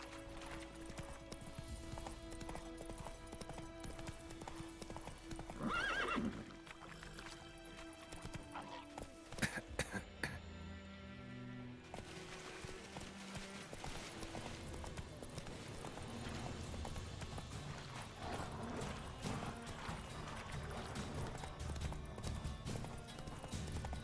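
Roach, the horse in The Witcher 3 video game, gallops with rapid hoofbeats over a dense bed of game music and ambience, with a sharp crash-like burst near the middle.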